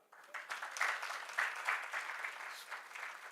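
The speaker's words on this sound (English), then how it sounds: "She deserves a clap." Audience applauding a government minister at a pension supervisors' conference in Africa, a steady dense patter of many hands clapping throughout, fairly close and sustained with slight swells.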